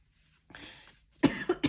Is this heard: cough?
yes